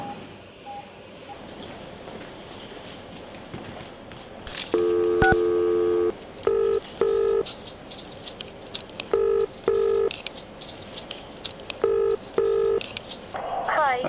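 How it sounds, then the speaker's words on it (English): A desk telephone is dialed for a call in a hospital ward setting: a series of distinct keypad tones in short clustered beeps, clear and close over quiet room background. "I won't be far away though, just at the desk, making a phone call."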